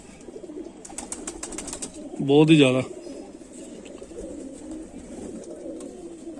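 Kamagar (kamangar) pigeons, kante-wale or jhumke-wale birds kept by a fancier, give a short burst of close, loud cooing about a second long among faint background noise, while someone talks.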